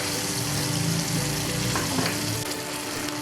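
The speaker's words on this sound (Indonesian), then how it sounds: "dan ini kita goreng sampai warna coklat keemasan" Loud, continuous sizzling of chicken frying in hot oil until golden brown, close up, with faint stirring clinks and no voices.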